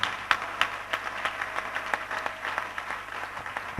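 A church congregation applauds to acclaim the Lord, with steady, moderately distant clapping and a few sharper claps running throughout at a fairly even level.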